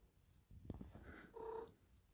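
A cat purring close by, a low soft rumble with a brief meow-like trill, quiet and alone in a garage setting.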